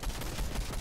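Rapid bursts of automatic gunfire in a competitive video game shooter tournament match, dense and loud in a short, continuous volley.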